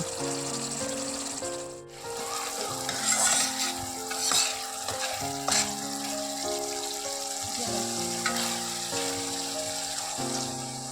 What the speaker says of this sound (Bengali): একটু নেড়ে চেড়ে দিই, আর দেখো চারপাশ দিয়ে কিন্তু সুন্দরভাবে কিন্তু তেল ছেড়ে দিচ্ছে